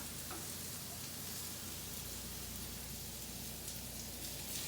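Oil sizzles and crackles steadily in a pan of frying mushrooms, a continuous close frying hiss with no talking.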